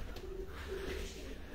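Faisalabadi pigeon cooing, a champion bird from Faisalabad: two low soft coos over a steady background hum, faint and brief with no talk.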